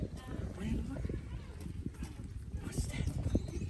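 Ponies walk at a pumpkin farm, their hooves clip-clopping steadily at close range through the clip, mixed with people talking nearby.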